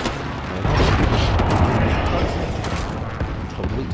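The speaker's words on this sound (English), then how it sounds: "Friendly precision airstrike on the way." Precision airstrike explosions rumble in Modern Warfare, a dense, continuous barrage of heavy booms and crackling blasts that swells after the first half second and stays loud throughout, with battle noise layered on top.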